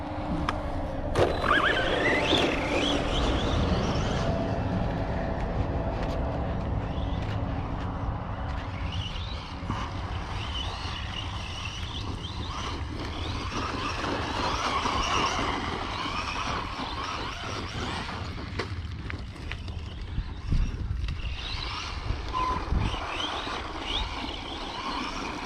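An Arrma Vorteks 3s BLX brushless RC car drives across alternating slippery and grippy ground, its electric motor whining and rising as the throttle is worked, with a continuous rough rumble from the tyres throughout.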